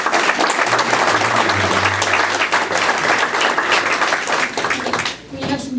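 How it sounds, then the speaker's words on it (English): An audience at a political forum applauds in a continuous burst of clapping, loud and close, with voices audible underneath before it tapers near the end. "Would you give Bruce a round of applause?"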